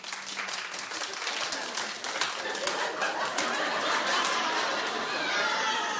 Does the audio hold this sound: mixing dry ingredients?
no